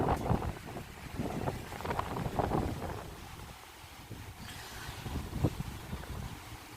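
Strong high winds blowing outdoors in Oklahoma under clouds moving in, rough gusty rumbling buffets that ease off midway and then return more softly.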